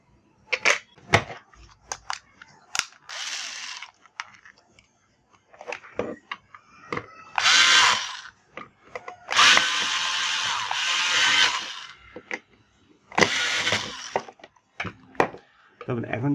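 Screws being driven to fix a combined power socket to a mounting board, heard as bursts of whirring and clicking in several separate runs, close and fairly loud, with short mechanical taps between them.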